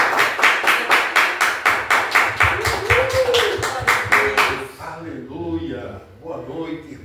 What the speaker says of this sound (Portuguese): Você pode aplaudir melhor, eu acho, né?